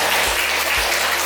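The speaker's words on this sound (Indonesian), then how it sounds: "aplaus buat kita semua" Applause from a class after a group presentation, a steady wash of clapping hands that holds loud and even from start to finish with no voices over it.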